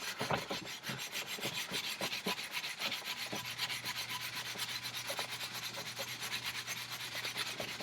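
Steel wool scrubbing rust off a motorcycle exhaust in quick, rhythmic back-and-forth strokes, a close, even rasping that repeats throughout, with a low steady hum coming in partway through.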